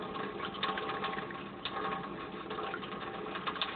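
Liquid poured off the top of a container of fermenting seeds saved for planting, a steady close watery trickle and splash running continuously with no talking.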